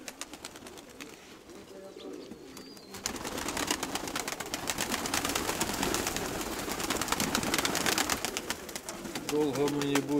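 Pigeons coo and rustle nearby while a steady noise swells in partway through, with flapping and bird calls mixed in.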